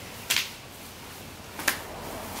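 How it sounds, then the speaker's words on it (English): Two sharp, quiet hand claps or snaps about a second and a half apart during a garden exercise, each a single crisp crack over faint background. "You have to clap your hands."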